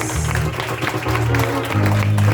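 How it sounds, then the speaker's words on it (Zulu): A church congregation claps together for Jesus in steady, continuous applause, with a voice and low musical tones sounding beneath it. "Awushayela ihlombe elikhulu Jesu"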